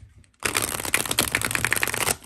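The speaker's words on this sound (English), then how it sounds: "I'm one of those riffle shufflers, so I totally shuffle it pretty easy." A tarot deck, The Original Tarot in Spanish edition or The Lustrous Tarot, is riffle shuffled after a quiet start, giving a dense, rapid flutter of cards close by for nearly two seconds, ending abruptly.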